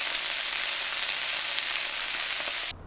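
Beef burgers frying in a pan, a dense, close sizzle with spitting grease spatter, steady throughout and then cutting off abruptly near the end.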